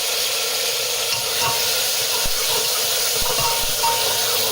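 Chopped tomatoes hit hot oil with mustard seeds, giving a loud, steady broadband sizzle and hiss with a few faint pops, heard alone throughout.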